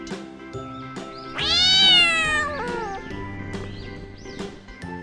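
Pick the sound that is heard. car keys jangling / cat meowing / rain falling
cat meowing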